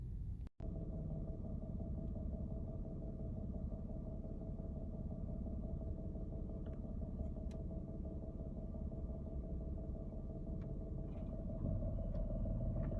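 Inside the cabin of a Nissan Pathfinder, a steady low rumble and hum carry on without break, faint and continuous, with a faint tone held above the drone and no one speaking.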